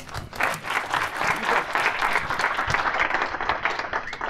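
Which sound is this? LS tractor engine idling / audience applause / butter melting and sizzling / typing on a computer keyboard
audience applause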